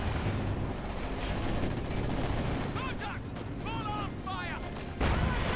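Battle gunfire in the Company of Heroes 2 strategy game, a steady dense crackle of shots and rumbling explosions running throughout, with a voice commenting over it.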